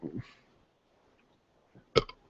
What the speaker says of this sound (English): There's a precocious burp.